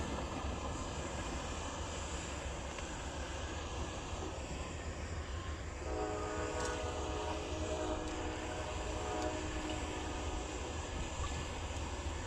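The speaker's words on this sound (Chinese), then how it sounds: "火车" A train rumbles past in a steady, loud roar, and a sustained horn-like tone sounds partway through and holds to the end.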